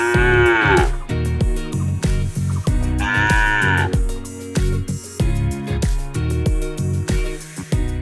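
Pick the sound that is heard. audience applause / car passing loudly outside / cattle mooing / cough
cattle mooing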